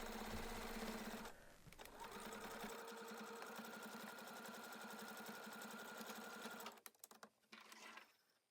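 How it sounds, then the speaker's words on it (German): A domestic sewing machine runs steadily, stitching a small fabric bag with 1 cm side seams, a continuous close mechanical whir that stops near the end and finishes with a few brief stuttering bursts. "Dann wird rechts und links mit 1 cm genäht."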